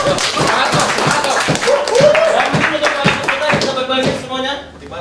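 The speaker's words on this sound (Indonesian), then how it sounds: "Oke, baik tepuk tangan dulu semuanya." A studio audience at a televised singing competition claps along in a regular, loud rhythm, with a sung voice and music running over the beat until the clapping drops away near the end.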